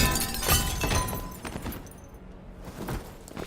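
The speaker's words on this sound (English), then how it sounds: "it sounds like the glass broke" Glass shatters in the Detroit: Become Human video game, a sharp crash near the start followed by scattered debris and a quieter tinkle near the end.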